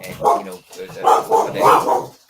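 A small, plump dog barks in a quick series of five or so sharp, loud yaps close by, with short gaps between them and a voice mixed in.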